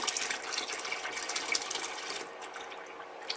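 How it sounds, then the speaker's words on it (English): Cooled beer wort for a homebrew brown ale pours into four gallons of water in a plastic primary fermenting bucket, a steady splashing liquid rush that eases off toward the end. "I'm going to add it to this 4 gallons of water in my primary bucket"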